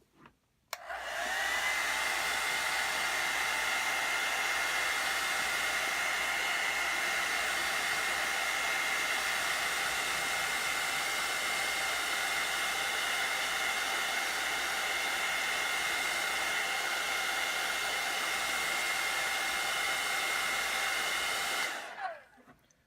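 A hair dryer blasts steadily over a watercolor painting, switching on sharply, holding a loud, even whoosh with a faint whine for about twenty seconds, then cutting off.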